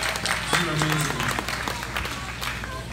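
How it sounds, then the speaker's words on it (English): Audience applause at a bluegrass band's Thanksgiving festival performance at a ranch, a dense clapping crowd sustained through the clip with voices mixed in. "Give a hand to yourselves."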